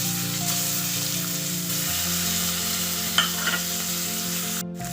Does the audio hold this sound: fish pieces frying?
yes